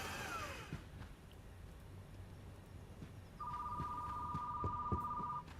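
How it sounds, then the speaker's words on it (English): A synthesized telephone ring chirps on a steady tone for about two seconds in a video game, sounding over low background hum and faint game noises. "What's the phone ringing about?"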